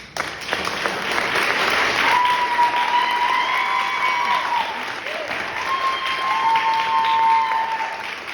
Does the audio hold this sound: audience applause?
yes